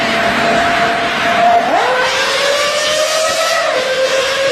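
A naturally aspirated V10 engine revving hard toward 8,000 RPM, a loud, continuous high-pitched wail whose pitch climbs, dips briefly and rises again, with no talking.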